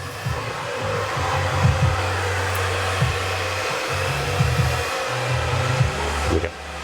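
A hair dryer blows steadily at close range while drying a freshly cut men's comb over, its whine and rushing air shifting slightly as it moves around the head, with no talking.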